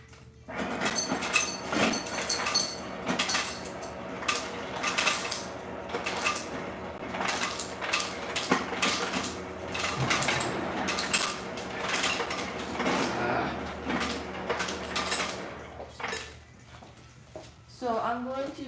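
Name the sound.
bowls and dishes being handled in a kitchen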